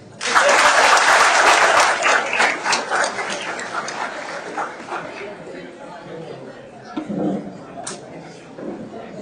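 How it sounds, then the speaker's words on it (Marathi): Audience applause at a Marathi public lecture on Indian Constitution Day, a loud burst for the first two seconds that thins into scattered clapping and crowd chatter, with a dog barking or whimpering briefly near the end. "एका जोरदार टाळ्या होत्या"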